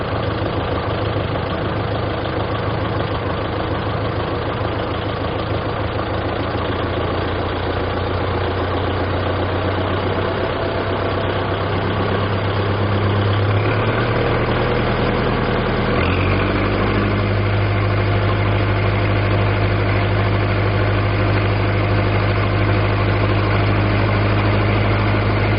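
A tractor engine idles steadily, a loud continuous low rumble with a throbbing drone that shifts to a deeper, stronger tone about two-thirds of the way through and then holds even.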